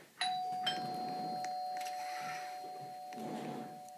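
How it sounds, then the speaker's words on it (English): A doorbell rings inside a house in the Roblox video game, a clear electronic tone with a sustained ring that holds steady for several seconds, followed by faint soft rustling, with no voices. "so I have a doorbell"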